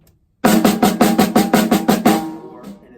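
A bass drum played with a rough, uneven double-stroke foot pattern, about ten loud close hits falling slightly off the beat, each with a short ringing decay, ending in a fading tail.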